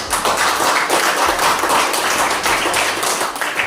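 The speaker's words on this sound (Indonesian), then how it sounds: "tepuk tangan" Loud, dense clapping from a classroom full of students, continuous and close, with rapid overlapping hand claps throughout.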